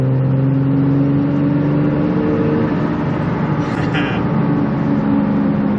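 A 3rd-gen diesel pickup truck fitted with BD 90HP injectors pulls hard at highway speed, its engine drone rising steadily as the turbo spools up, with a brief higher whistle partway through; loud and continuous, no talking.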